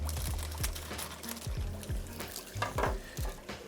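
Water pours and gurgles steadily as a cut fish bag empties into an African river aquarium, a close, continuous splashing trickle with small bubbly pulses and no talking.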